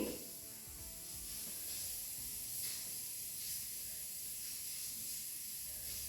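A mixer grinder grinding spices for chutney powder whirs in a steady, hissing drone, running continuously at moderate volume with slight fluctuations and no voices.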